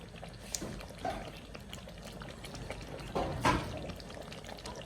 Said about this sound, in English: Let's add in water because we are going to add in the spinach.